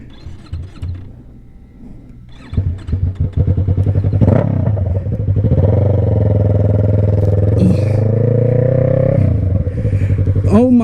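A heavily modified Yamaha R3 motorcycle is ridden close by, its engine rising from uneven idle blips into a loud, sustained rev that climbs and then drops away, with a few short sharper revs at the end.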